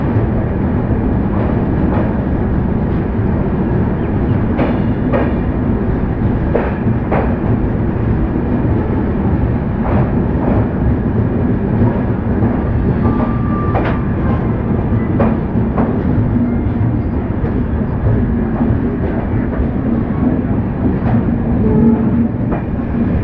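A train rumbles at a Siliguri Junction platform with a heavy, continuous roll and rhythmic clickety-clack of wheels over rail joints, close by and loud throughout, with no talk.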